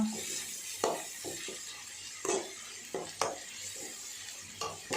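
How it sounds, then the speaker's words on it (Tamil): Onions sautéing in a pan, a low sizzle under intermittent scraping strokes of a spoon against the pan, each stir a short close rasp. "வெங்காயம் நல்லா வதங்கணும் டோனிஷாக வர மாதிரி வதக்கிட்டு நல்லா வதங்க விடுங்க"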